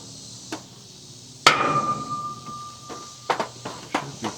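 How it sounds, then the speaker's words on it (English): A hammer taps a metal carport panel to mark screw spots, with one sharp ringing strike that hums and decays, followed by several lighter, quicker taps, alone and close by. "take my hammer and mark where their screws is at"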